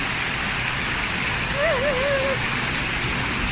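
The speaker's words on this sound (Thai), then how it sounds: "ฝนตก" Rain falls outdoors as a steady, dense hiss throughout, with a brief whistling tone rising and wavering in the middle.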